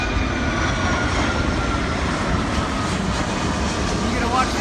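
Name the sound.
airplanes landing near restaurant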